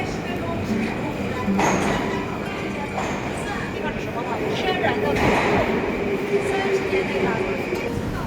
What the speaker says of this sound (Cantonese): 好似而家我行緊呢個咧就係基輔地鐵站啦